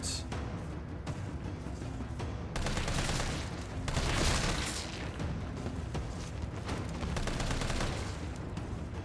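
Repeated gunfire rings out while shooting zombies in Resident Evil 3 Remake, in loud clustered bursts with a heavier volley in the middle. It comes close and continuous over game ambience, with no one speaking.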